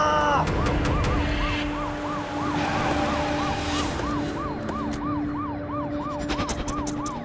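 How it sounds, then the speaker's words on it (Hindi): Several emergency sirens wail together in a steady, repeating up-and-down pattern, loud and continuous over a rumbling background, with no talking. "सारे सायरेंस बंद करो।"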